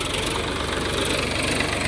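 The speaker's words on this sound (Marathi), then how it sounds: "हे आमचं ट्रॅक्टर आहे. 18 वर्ष झाली ट्रॅक्टरला घेऊन आणि चांगलंच चालतंय" An 18-year-old farm tractor with its engine running close by, a steady low rhythmic chugging throb with knocking pulses and no talk.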